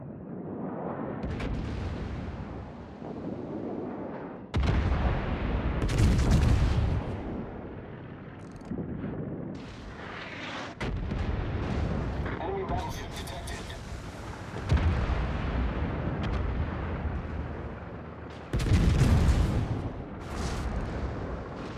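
Naval gunfire against an aircraft carrier in the video game World of Warships, repeated heavy booming salvos and explosions at uneven intervals, loud and dense, with a voice talking over them.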